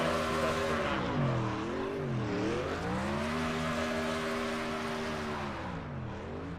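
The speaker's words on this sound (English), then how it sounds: "Giving us some burnouts across the start-finish line." A NASCAR stock car doing burnouts across the start-finish line at Texas Motor Speedway in a sim racing game: a loud, continuous engine drone whose revs rise and fall in sweeping waves, with no voices.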